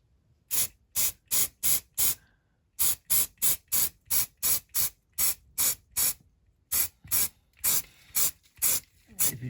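Short aerosol spray bursts from a can, painting a Dinky Toys Ford Transit van model in a makeshift spray booth; about eighteen close, loud hissing puffs in quick rhythmic groups, separated by brief silent pauses.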